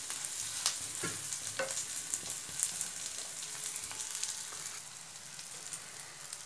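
Amchur powder and spices dry-roasting in a pan over low flame, a soft steady sizzle with faint scraping stirs, fairly quiet throughout.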